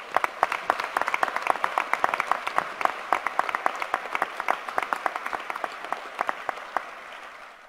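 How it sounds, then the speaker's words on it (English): Audience at a medical school white coat ceremony gives a round of applause, a steady patter of many hands clapping at moderate distance, fading away at the end. "let's have a round of applause for them."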